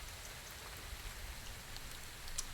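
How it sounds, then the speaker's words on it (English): Light rain just beginning to fall outdoors, a faint, even patter with scattered drops and no clear thunder, heard alone and fairly quiet. "Starting to rain, also some thunder."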